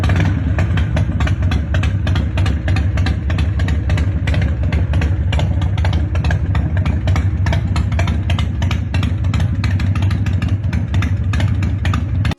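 A classic motorcycle engine runs steadily and loudly, a deep throbbing idle with rapid clattery pulses that hold constant throughout, with no talking.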